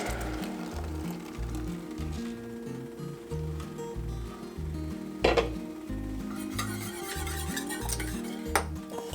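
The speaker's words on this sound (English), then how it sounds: "And then I'll add my quart of blended tomatoes." Blended canned tomatoes pour into melted butter in a soup pot, with soft stirring and sizzling, scraping and clinks of a utensil against the pot, and one louder knock midway.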